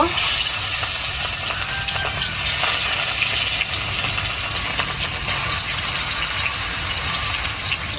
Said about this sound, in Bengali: তেল গরম হয়ে গেছে, এখন মাছগুলো দিয়ে দিব।